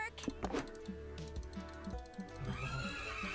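Horses in a video game neighing and whinnying repeatedly alongside clip-clop hooves, fairly quiet, ending in a rising burst of game music.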